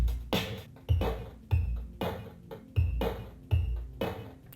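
Synthetic drum beat from a Korg Chaoslator with a modulated effect: steady kick thumps about every 0.6 seconds, each carrying a bright squeaky rasp like sneakers on a court, mid-level and unaccompanied.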